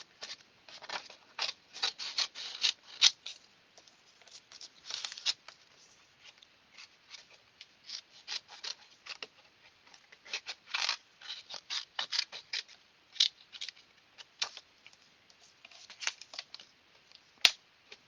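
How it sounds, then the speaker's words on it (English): Scissors fussy cutting small paper card pieces at a craft table, a steady series of quiet snips and paper rustles, close and soft with no talking. "I'm just going to go ahead and quickly try to fussy cut these guys."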